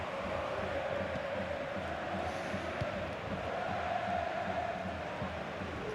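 A football stadium crowd in a video game makes a steady, moderately quiet roar late in a match, a continuous wash of chanting and cheering noise.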